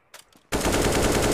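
Rapid automatic gunfire in a video game erupts after a few faint clicks and continues as a loud, dense, unbroken burst.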